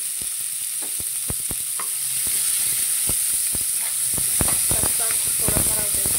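Chopped onion frying in a pan alongside roasted peanuts for Maharashtrian baingan bharta, a steady bright sizzle with scattered spatula clicks and scrapes, growing a little louder midway; no one speaks.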